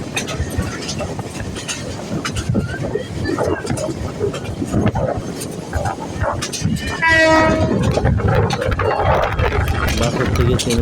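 A passenger train running on its tracks with steady rumbling and rattling throughout, a rising whistle or horn-like tone around the seventh second, and people talking aboard under the noise.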